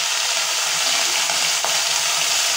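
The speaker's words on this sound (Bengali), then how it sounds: "আর তেজপাতাটাও দিলাম, জাস্ট একটু নেড়েই দিয়ে দেব পেঁপেটা" A bay leaf fries in hot oil in a pan while being stirred for a Bengali oil-free curry, giving a steady, loud, close hissing sizzle throughout, with a faint scrape of the spoon.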